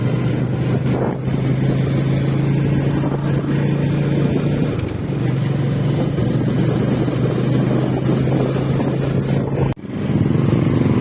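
A motorcycle engine runs steadily at a low idle-like drone throughout, close by, with a brief dip near the end before it picks back up.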